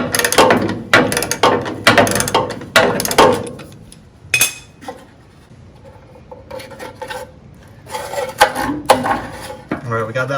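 Ratchet wrench clicking in short bursts while loosening 10mm bolts beside the master cylinder of a rusty VW bus, close up, with a quieter pause midway before more ratcheting.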